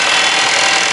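A 2007 Nissan Qashqai with a 2.0 petrol engine and automatic gearbox runs steadily at idle, a loud, close, continuous mechanical hum with a slightly uneven note and no talk over it.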